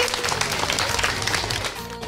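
Dense, steady clapping from a group gives loud applause, with faint voices mixed underneath.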